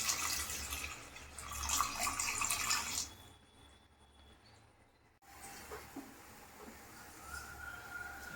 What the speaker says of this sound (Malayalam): വെള്ളം ചേർക്കാം